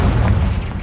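A Confringo blasting spell explodes in the video game Hogwarts Legacy: one loud, deep, rumbling boom that fills the whole short moment with no talking.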